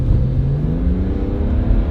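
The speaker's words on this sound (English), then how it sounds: "You do hear those turbos more." BMW E90 335i with N54 twin-turbo engine and catless downpipes, a loud close continuous engine drone with rising tone as it revs, no talk.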